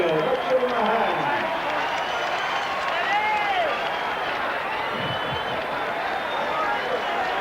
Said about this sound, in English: how about a round of applause for the former champion from Atlanta, Georgia, Evander Holyfield. Let's give him a hand.